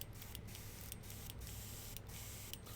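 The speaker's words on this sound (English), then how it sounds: "So I'll put a bit of water in it and I'll have a little spray" An airbrush sprays water in a steady, soft hiss, faint and close, broken by a few brief pauses.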